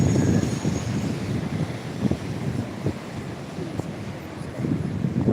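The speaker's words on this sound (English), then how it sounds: "Bloody cold though. Cold wind." Cold wind buffeting the microphone on a seafront walk between St Julian's and Sliema, a steady loud rushing roar with gusty swells and faint surf beneath, no talking.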